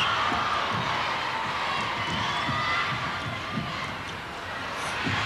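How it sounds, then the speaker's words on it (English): An Australian crowd at a 1991 World Netball Championships final between the Diamonds and Silver Ferns cheers in a steady, dense roar that holds loud throughout, with rhythmic thumping underneath like stamping or clapping. "Well, the Aussie crowd loving it"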